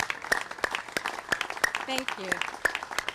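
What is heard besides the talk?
audience applause, hand clap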